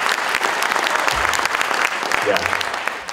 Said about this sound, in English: Let's just clap them to them